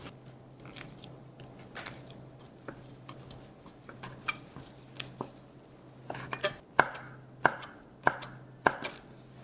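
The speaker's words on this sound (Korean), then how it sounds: "호박씨는 반을 갈라서" A knife halves pumpkin seeds against a cutting board with soft, irregular taps, becoming sharper and more distinct clicks toward the end over a low steady hum.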